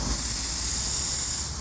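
Steady, loud hiss of compressed air from an airbrush fed by a Rooty Tooty air compressor, a constant broadband rush that holds for over a second and eases slightly at the end, with no talking.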